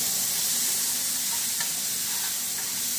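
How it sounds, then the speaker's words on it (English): Onions sauté in a hot pan until soft, giving a close, steady sizzle and hiss with a few small pops and no voices. "So I'm just making my onions soft."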